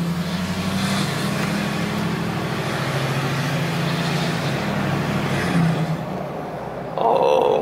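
A large truck's engine rumbles steadily while driving, with low droning road noise throughout and a brief shift near the end.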